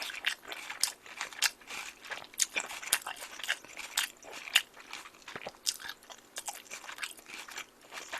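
Close-up crunching bites and chewing of a crispy fried chicken drumstick from Nene Chicken, with sharp, irregular crackles repeating throughout and no talking.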